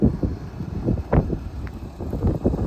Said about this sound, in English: sorry it's so windy out here